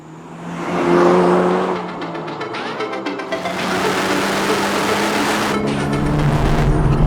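A Honda Civic Type R FL5 engine pulls hard toward the redline, its loud sustained drone rising and dropping with gear changes, close-up from inside the car with no voices.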